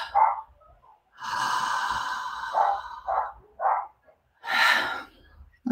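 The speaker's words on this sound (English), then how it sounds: "So long on the inhale and just letting the exhale go." A person doing a guided breathing exercise, taking a long audible inhale followed by short relaxed exhales, with soft breathy puffs and pauses between breaths, close and quiet.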